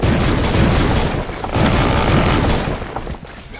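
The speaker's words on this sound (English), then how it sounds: "you shoot them and then they like blow up and then they explode" Statues bursting apart under acid gun fire in the video game Will Rock: a dense run of loud, overlapping booms and shattering blasts rolling continuously before trailing off at the end.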